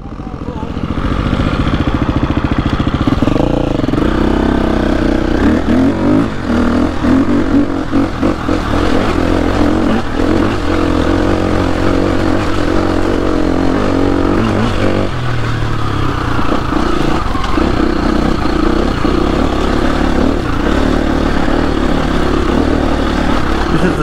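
An off-road motorcycle picks its way over rocks on a green lane, the engine droning and revving loud and close throughout while stones clatter under the tyres and a rider's voice cuts in.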